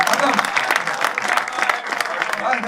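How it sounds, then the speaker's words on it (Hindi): Dense, steady applause from a crowd at a Hindi-Urdu shayari poetry gathering, many hands clapping at once without a break. "एक बार जोरदार तालियां दोस्तों भाई"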